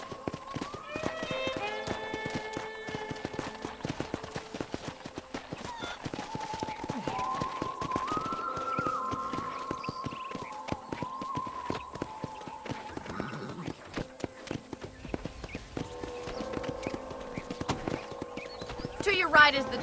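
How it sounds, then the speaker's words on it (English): Horse hooves clip-clopping at a gallop in the Red Dead Redemption video game, a steady rhythmic beat with an occasional whinny, set under continuous game music and a character's voice talking. "let's see if you can still ride a horse"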